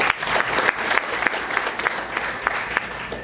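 An audience claps at a ceremony honouring Tanzanian athletes, dense, steady applause with a few sharper individual claps standing out, continuous throughout and fairly close.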